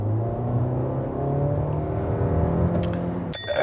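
A Kia Seltos hybrid with a six-speed DCT in sport mode accelerates with a steady, rising engine drone heard from inside the cabin, followed at the end by a short electronic chime.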